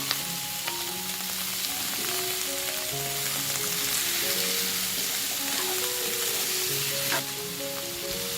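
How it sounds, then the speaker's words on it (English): Raw banana stir-fries in a hot pan with sautéed pounded ingredients, giving a steady, dense sizzle and crackle with occasional scraping stirs, close and continuous with no voices. "Then add the raw banana and stir fry"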